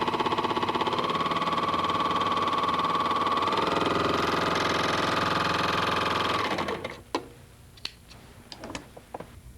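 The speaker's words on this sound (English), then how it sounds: "Place your fabric under the foot and begin serging." A Brother overlock sewing machine serges fabric with a 3-thread overlock stitch, running as a fast, steady, loud mechanical whir for about six seconds before stopping, followed by a few faint clicks and handling taps.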